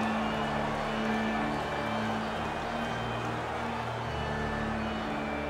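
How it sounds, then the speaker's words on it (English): Arena crowd in the NHL 20 ice hockey video game, a steady, continuous roar of spectators with faint cheering, level throughout and heard without talk. "You can feel the energy in this crowd."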